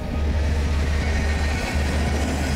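A train running on rails gives a loud, continuous rumble with a steady low drone and rattling from the carriages, close and unbroken throughout, with no voices.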